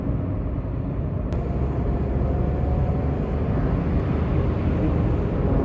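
A Renault Kiger 2024 turbo petrol car accelerates with a steady, loud engine and road rumble heard from inside the cabin, continuous and without a clear break.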